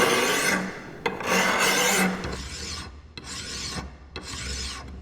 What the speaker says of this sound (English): we'll be grabbing a big file, nice big fat one. And yeah, it's just flattening up the surface.